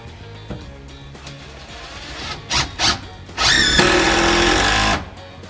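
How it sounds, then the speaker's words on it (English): Power drill driving a screw into a wall stud during a bathroom remodel, heard as a couple of short buzzing bursts followed by one sustained, louder whirring drive lasting about a second and a half, close by. "I'm going to tack a screw in here."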